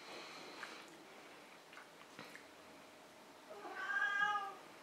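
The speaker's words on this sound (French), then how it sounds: "Oui mon chat." A domestic cat gives a single clear meow near the end, moderately close, after a few seconds of quiet indoor room sound.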